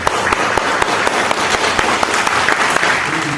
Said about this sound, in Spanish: Fuertes aplausos para Osmar.